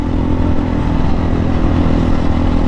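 MPX 250cc two-stroke trail motorcycle engine running steadily at close range, a dense continuous mechanical rumble with no talk, ahead of a light trail ride to the Sapang Bato river bed.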